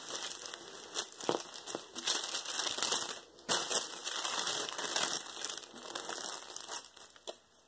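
A mail package that was wrapped very thoroughly is unwrapped close to the microphone, giving steady crinkling, crumpling and occasional tearing of paper and plastic for several seconds, with no talking.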